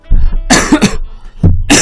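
Several harsh, close coughs in quick bursts, with a short gap before a final cough.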